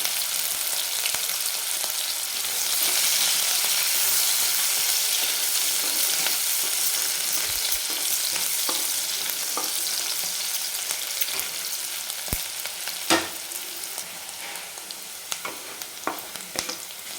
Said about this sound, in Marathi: एक कांदा आपण कट करून घेतलेला आहे तो कांदा टाकणार आहे आणि याला मिनिटभर आपण फक्त परतून घेणार आहे